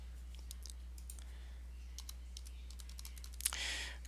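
Faint, sparse keystrokes of a password being typed on a computer keyboard during a Linux Mint installation, a handful of soft clicks under steady low hum, with a brief louder burst near the end.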